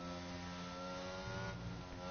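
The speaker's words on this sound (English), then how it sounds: "Bizarre Mike doing very well to keep that car under control" A Formula 1 race car engine in a racing video game holds a steady high-pitched drone with a rising pitch, loud and continuous throughout, with no voices.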